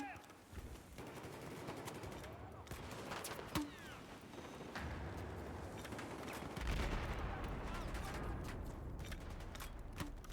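Battlefield 4 multiplayer match with dense rapid gunfire and repeated grenade blasts, a constant crackling barrage with heavier thuds, moderately distant and busy throughout.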